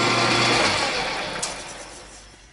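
A steady high-pitched whir of a drill spotting a hole in a metal light fixture base, loud and close, gradually easing off toward the end.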